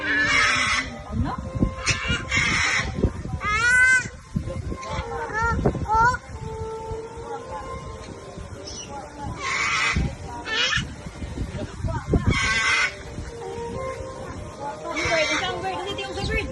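A person imitates a bird with a run of short whistled and warbled calls that rise and fall in pitch, repeated in bursts between other voices talking and laughing nearby.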